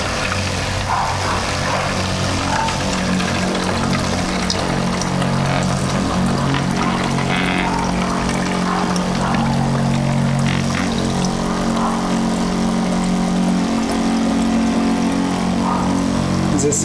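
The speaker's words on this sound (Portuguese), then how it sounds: "Quanto tempo vai levar para encher essa garrafa aqui com step down agora ligado na bomba" A cheap irrigation pump converted into an automatic water pump runs steadily through a step-down converter, filling a bottle with a continuous loud motor hum and the sound of flowing water.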